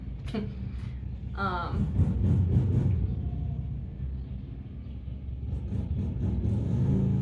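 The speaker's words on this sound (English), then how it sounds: "Loud car, confirmation. Actually, I think it's a motorcycle." A loud motor vehicle engine roars nearby and fades slowly, with a person talking over the rumble.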